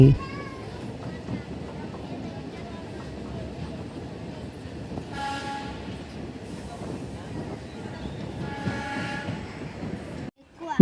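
A DEMU passenger train runs toward Dharmavaram junction on the Hindupur line, with a steady rumble heard from inside and a brief higher whine partway through, before the sound cuts out near the end; a voice speaks over it.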